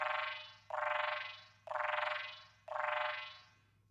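Mouth tongue rolls transformed by a frequency echo plugin and reverb into four repeating sci-fi warbles, each a sharp onset sweeping into a rattling, chirping tail, evenly spaced and close, with a low steady hum beneath.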